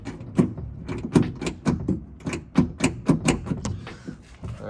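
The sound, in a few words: Fox Body Mustang car door being closed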